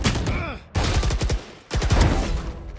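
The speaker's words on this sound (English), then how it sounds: "Here's a very balanced shotgun." Valorant shotgun gunfire comes in loud, close bursts of rapid booming shots, with short gaps between the volleys.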